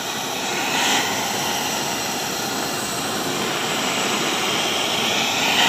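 A torch heats the crankcase of a Raider 150 motorcycle engine, a steady roaring hiss of flame holding at an even level throughout, with no voices.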